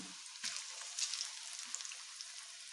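Pieces of Nendran banana fry in hot oil, a faint steady crackling sizzle with small pops and a few soft low knocks.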